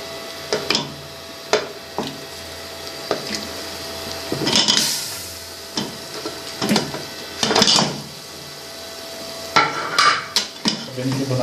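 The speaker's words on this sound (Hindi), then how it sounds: "अब इसके अंदर पाए डालेंगे और इनकी बुनाई करेंगे।" Mutton trotters (paya) being stirred in a pot in a commercial kitchen, with repeated scraping and clattering strokes and sharp metallic knocks against the pot over a low frying sizzle, at close range.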